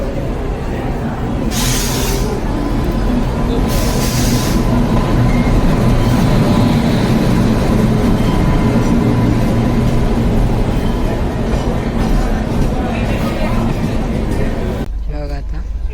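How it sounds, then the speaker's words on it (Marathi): Amravati Express passenger train pulling into an Indian railway station on an AC coach journey from Mumbai to Nandura, a steady loud rumble of rolling wagons with platform bustle and voices throughout, ending abruptly. "फायनली आली आमची गाडी अमरावती एक्सप्रेस"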